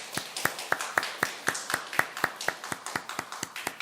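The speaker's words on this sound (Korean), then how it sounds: "우리 환영의 박수 한번 쳐 올리겠습니다." A church congregation claps in welcome with crisp, evenly spaced claps in a steady unison rhythm, about four per second, moderately close and continuing throughout.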